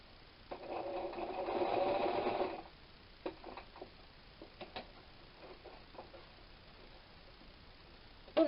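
A sewing machine stitches a quilt block in a steady two-second whir near the start, followed by faint ticks and clicks of fabric handling, quiet and close with no talking.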